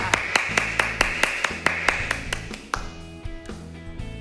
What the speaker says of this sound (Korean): 하나님 아버지께 감사의 박수를 크게 올려드립시다